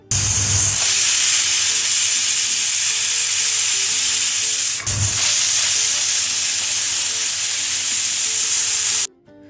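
Steam rushing from a pressure cooker cooking meat on a gas stove, a loud, steady hiss that holds for about nine seconds with a brief dip midway before cutting off abruptly.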